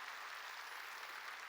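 A church congregation claps in a steady, even patter that stays fairly faint and distant, with no voices over it.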